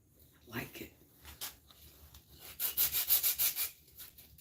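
Quick rhythmic scratching of 100-grit sandpaper rubbing on wood, close up, with brief pauses between bursts of strokes.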